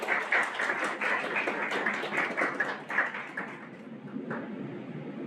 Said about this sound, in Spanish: Con el aplauso de todos ustedes, por favor.